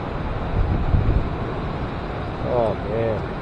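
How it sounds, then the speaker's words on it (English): Strong wind at a winter tent campsite, a steady broad rushing roar with a louder surge early on, and a voice calling out briefly near the end. "Winds are kicking up now."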